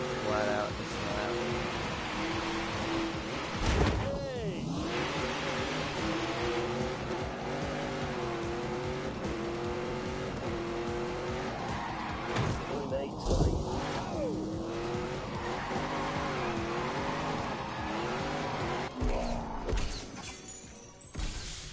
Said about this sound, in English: I'm going flat out this lap.